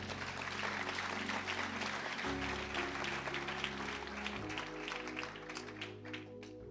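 A church congregation applauds together, a loud, steady round of clapping from the crowd that holds for several seconds with no talk over it.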